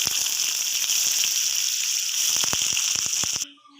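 Thin-sliced potatoes frying in hot oil give off a steady, bright sizzle with scattered pops and crackles, close and loud, ending abruptly.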